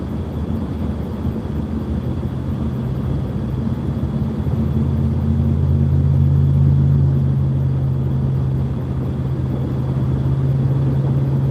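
An old 1970s Chevrolet Nova engine with its exhaust piped past the mufflers rumbles in a steady, loud, deep drone that holds for about eleven seconds with little change.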